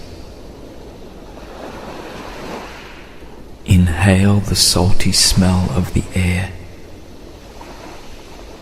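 Surf on a beach washes in over sand and draws back out, a steady soft rush under wind, while a calm voice speaks over it in the middle of the stretch.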